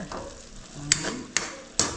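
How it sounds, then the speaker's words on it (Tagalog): Galunggong fish frying in a pan, a close, quiet oily sizzle broken by three sharp clattering taps of a utensil against the pan, roughly evenly spaced. "So, ito nag-prito naman tayo ng galong"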